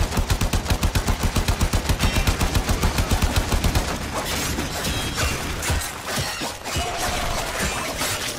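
Video game gunfire: a loud, rapid, evenly spaced automatic burst lasting several seconds, followed by denser, ragged shooting and clattering mechanical effects.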